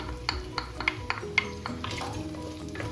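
Onion added to meat frying in butter in a clay pot sizzles beneath a series of sharp spoon scrapes and taps against the pot, roughly one every third of a second.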